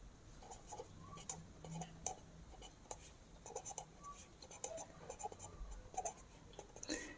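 During a Class 6 geometry lesson, a pen writes in short, quiet, scratchy strokes with small pauses between words, faint and close.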